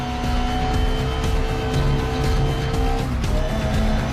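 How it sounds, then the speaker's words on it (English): A race car engine roars at a steady, loud, high-revving pitch in GRID Legends, with faint tire noise beneath and only small shifts in tone through the run. "And the roar of that engine"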